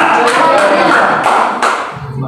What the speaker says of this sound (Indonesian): Berikan dulu tepuk tangan bagi Tuhan kita.